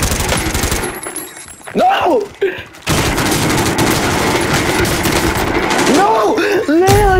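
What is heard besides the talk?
gunfire from Call of Duty: Modern Warfare video game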